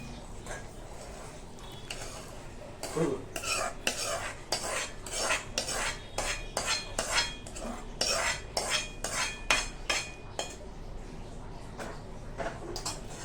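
Homemade Schezwan chutney is spooned from a pan into a serving bowl, bringing a run of close metallic clinks and scrapes of spoon against dishware in an irregular rhythm, with someone talking quietly throughout.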